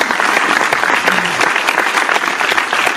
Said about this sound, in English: I'm gonna give him a round of applause.